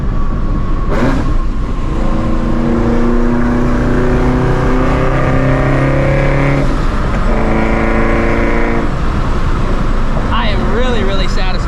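Supercharged Shelby GT350 V8 revving hard, a loud sustained engine roar with rising and falling pitch and a layered supercharger whine, close to the car.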